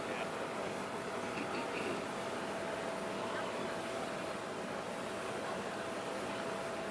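Aircraft engine at an airport before boarding, a steady low roar and whine that holds evenly for several seconds at a faint, distant level.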